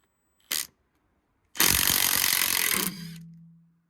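A Milwaukee impact gun loosens a nut with a short burst and then a loud, continuous rattling hammer for over a second before spinning down, close up and without talk.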